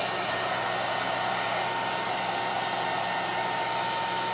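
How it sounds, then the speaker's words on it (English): A heat gun set on low blows a steady, even whoosh of hot air while drying a wooden gun stock that is being prepared for finishing. It runs unbroken and close, with no other sounds. "So if you choose to use the heat gun, it's just low is probably good enough. Just dry it off."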